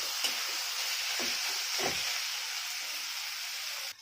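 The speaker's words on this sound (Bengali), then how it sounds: "এবার দেবো সেদ্ধ করা গেঁড়িগুলো। গেঁড়িগুলোকে আবারও কষতে হবে।" Boiled snails sautéing in an oiled pan, a steady bright sizzle with a few soft scraping stirs, close and continuous with no talking.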